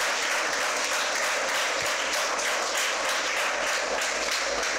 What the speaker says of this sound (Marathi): आजच्या व्याख्याता सौ शलाकाताई गोटखिंडीकर मॅडम यांचं जाधवर इन्स्टिट्यूटच्या वतीनं आपण टाळ्या वाजवून हार्दिक स्वागत करूया